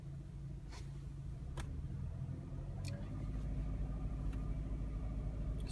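A 2009 Chevy Cobalt engine idles in neutral with the parking brake set, a steady low rumble with faint intermittent clicks on top, holding even and close throughout with no voices.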